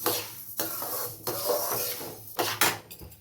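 A mixer grinder grinds roasted coriander seeds in loud, harsh whirring bursts, stopping and restarting several times, close and alone.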